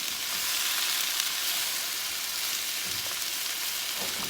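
Bitter melon sears in a hot pan over high heat, a steady, loud, close sizzle with a faint clatter of tossing near the end and no voices.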